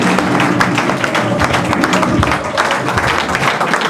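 Audience at a party convention in Divo applauding, a loud, dense wash of clapping that holds steady for a few seconds with no break.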